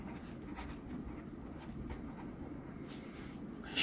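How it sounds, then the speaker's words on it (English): Pen or pencil writing out a maths question on paper, with steady scratchy strokes running continuously at close range, faint and alone, with no voices. "Now let me write the question down."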